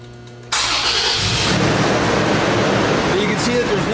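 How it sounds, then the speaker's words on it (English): A truck engine cranks and catches to a steady broadband running roar that fills the rest, loud and close, with no talking over it. "So then we're going to start the truck."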